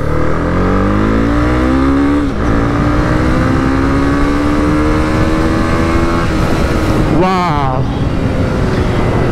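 A 2022 Honda CB300R motorcycle engine revs hard through the gears, pitch climbing steadily, dropping at a shift, then rising again to a loud high-rpm wail, close and strong, with a brief voice over it.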